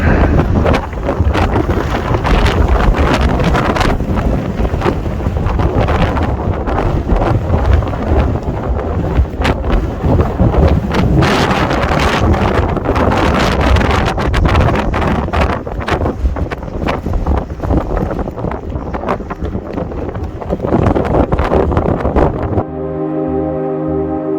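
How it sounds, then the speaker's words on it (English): Strong wind buffets the microphone on the summit of Ben Vorlich, a Scottish mountain above Loch Earn, a loud continuous roar with gusts lasting throughout and easing only at the very end. "The wind's picked up."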